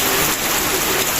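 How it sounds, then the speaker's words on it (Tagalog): Heavy rainy-season rain pours down steadily, a dense, even hiss of drops striking surfaces nearby, loud and unbroken throughout with no talking. "Wala pong hiwat ang ulan."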